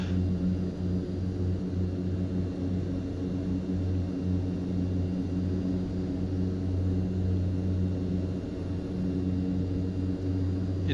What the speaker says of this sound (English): This plane just takes off.